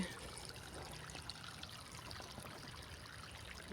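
Soft, steady trickle of irrigation water flowing into a farm field, gentle and fairly faint, with no voices.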